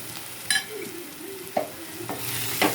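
Food fries in a covered pan on the stove with steady low sizzling, while a spoon scrapes and stirs it in a few brief clanking bursts.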